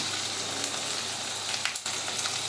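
Spice masala for a rohu fish and potato curry fries and sizzles in a pan, a steady close hiss with faint scraping as it is stirred, no talk over it.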